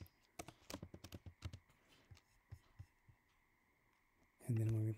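Quick, close taps on a computer keyboard while code is typed, an irregular burst of clicks in the first half slowing to scattered keystrokes, ending with a short loud bump.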